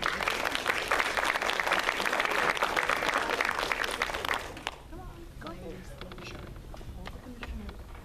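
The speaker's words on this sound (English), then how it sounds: "Let's give them a round of applause" Loud crowd applause for a certificate presentation at a Long Beach city council meeting fills the room, then drops off sharply partway through, leaving quieter room noise with faint voices.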